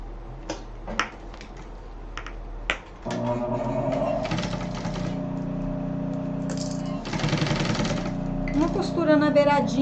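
A sewing machine runs steadily, stitching a seam around a cloth strap folded in four for a crossbody bag. It follows a few sharp clicks and handling taps and hums on continuously at close range.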